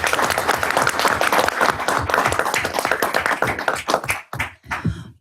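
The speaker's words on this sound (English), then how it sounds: "please join us in giving him a round of applause" Audience applause at a township board of commissioners business meeting, a dense round of clapping from a room of people that continues for several seconds before thinning into a few last claps.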